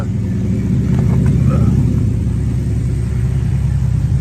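A muscle car engine idles steadily with a deep, continuous low rumble, close and constant throughout.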